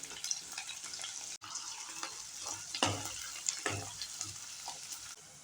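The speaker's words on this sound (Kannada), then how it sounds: "ಈರುಳ್ಳಿ ಎಲ್ಲ ಎಣ್ಣೆಯಲ್ಲಿ ಬಾಡಿಸ್ಕೊಂಡಿದ್ದೀನಿ" Chopped onion frying in oil with mustard seeds and cumin, a soft, steady sizzle close by, broken by spatula scrapes and stirring knocks against the pan.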